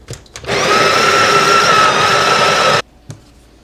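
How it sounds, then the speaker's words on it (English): A Breville Barista Pro's built-in coffee grinder grinds beans on a 14-second cycle: a loud, steady, close whir that starts abruptly, holds even, then cuts off cleanly, with a few small knocks before and after. "we are set at 14-second grinder cycle"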